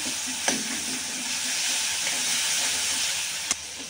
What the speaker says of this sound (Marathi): ठेचा थोडा लाल असा छान भाजून घ्यायचा